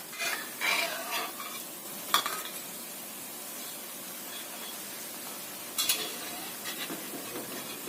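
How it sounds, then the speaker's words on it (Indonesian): Peanut crackers sizzle steadily in hot oil, a continuous crackling hiss broken by a few scraping stirs of a utensil. "Goreng sampai kering."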